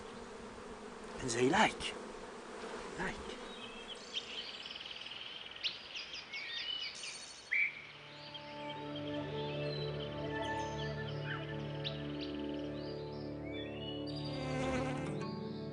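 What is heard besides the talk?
honeybees buzzing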